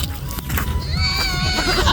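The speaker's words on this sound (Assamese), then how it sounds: "বৰহাই ছাগলীক বহুত মৰম কৰে এইটো ছাগলী" A pet goat bleats with a wavering, high-pitched cry through the second half, close and fairly loud, over scattered background noise and movement at an outdoor picnic spot.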